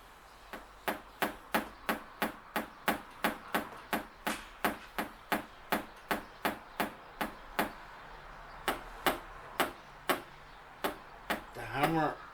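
A brand new hammer strikes repeatedly in a steady rhythm, about thirty sharp, close knocks with short pauses, and a brief cluster of quicker blows near the end.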